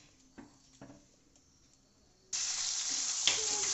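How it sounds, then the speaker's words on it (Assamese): Onion, tomato and chilli frying in a pan: quiet taps and stirring at first, then a sudden loud, steady sizzle with a stir clatter partway through. "পিঁয়াজ বিলাহী জলকীয়া এইখিনি ভাজি আছোঁ"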